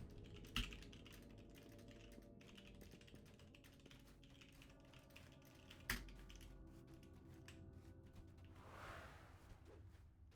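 Keyboard typing runs steadily under game music and ambience during a Dungeons and Dragons Online session, a quiet stream of close clicks with two sharper knocks standing out.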